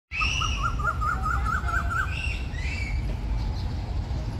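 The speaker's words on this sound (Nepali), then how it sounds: "बर्डहरू हो त्यो त चराहरू हो" Several birds calling outdoors: a rapid warbling trill runs for about two seconds, followed by a few higher chirps, all moderately close over a steady low rumble of background noise.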